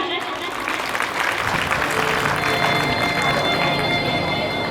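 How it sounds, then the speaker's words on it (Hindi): An audience claps steadily throughout, a dense wash of applause from a crowd with no break. "कृपया थोड़ी थोड़ी सी तालियां बजा दीजिए"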